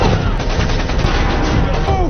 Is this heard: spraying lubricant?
no